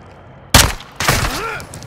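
Two sharp bursts of gunfire in Call of Duty: Modern Warfare II, a loud crack followed half a second later by another burst with a ringing, whining tail.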